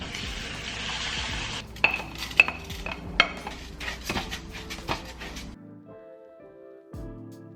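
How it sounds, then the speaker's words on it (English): Jasmine rice being rinsed in a metal pot with water swirling and sloshing, then a run of sharp clinks and scrapes against the pot before the sound thins out near the end. "I'm gonna rinse my rice."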